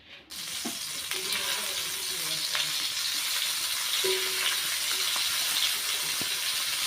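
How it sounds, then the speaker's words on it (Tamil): Masala-coated brinjal pieces fry in hot oil on a dosa pan. A steady, close hiss of sizzling oil fills the clip, broken by a few soft clinks and taps as pieces are set down, with no talk. "மசாலா தடவி கத்திரிக்காய் வச்சுருக்கோம்ல அதை வந்து இப்போ எண்ணெயில் வச்சிடலாம்"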